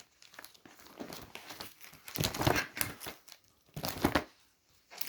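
Paper pages turning and folding back in a sequence of soft crinkles and rustles, with louder crumpling bursts near the middle and end, close and alone with no talk.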